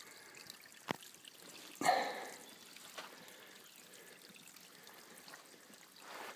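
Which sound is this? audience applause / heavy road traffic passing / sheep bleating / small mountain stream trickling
small mountain stream trickling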